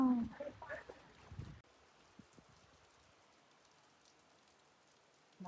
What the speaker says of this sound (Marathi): मस्त असता पाऊस